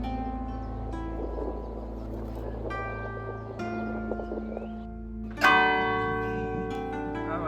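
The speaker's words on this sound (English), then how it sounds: "Be aware that the bell tower is still active if you happen to be standing next to one of the two remaining bells." A church bell in the Provins citadel bell tower, one of its two remaining bells, rings nearby: a low, resonant hum swells into a loud, close strike with bright overtones that linger in a long decay.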